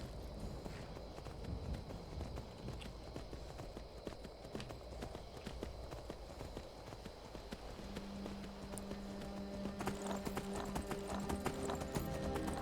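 Horse hooves clip-clop in a steady trotting rhythm in the video game Skyrim, moderately close, with a faint whinny and some game sounds near the end.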